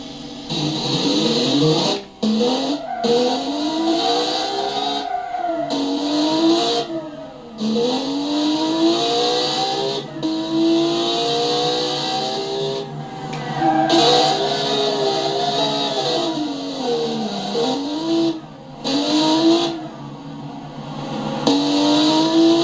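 A Wall W-12 drift car in the driving game BeamNG howls and revs through repeated slides, its engine pitch sweeping up and down with brief drops as the throttle lifts, loud and continuous.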